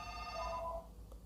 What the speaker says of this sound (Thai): โทษทีนะครับน้องพอดีโทรศัพท์เข้าอ่ะ